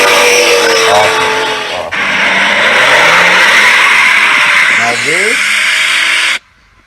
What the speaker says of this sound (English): Now this I think is an S4, and this has a V8 in it.